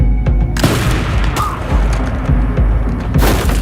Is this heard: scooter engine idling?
no